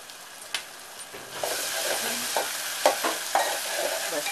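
Onion sautéing in a pan for dry Bombay duck chutney, a soft sizzle that swells after a moment, with scattered scrapes and taps of a spatula stirring close by.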